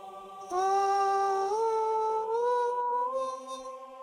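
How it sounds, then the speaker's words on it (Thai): Layered voices sing sustained, gliding choral notes in harmony, like a church choir, with a faint high shimmer above, in the Incredibox music game with The Bells Christmas mod. "อันนี้เสียงเหมือนเขาเรียกว่าประสานเสียงนะครับ"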